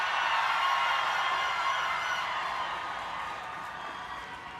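A large outdoor rally crowd at the March for Life on a frigid January day cheers in a broad, steady roar that slowly fades, heard from a distance with no distinct voices.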